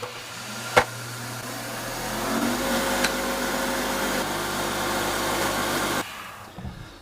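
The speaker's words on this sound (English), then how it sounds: "now I take my spindle gouge and I just clean that up" A spindle gouge cleaning up a turned wooden lantern ornament on a lathe, a steady whirring cut under motor hum with a couple of sharp ticks, stopping near the end.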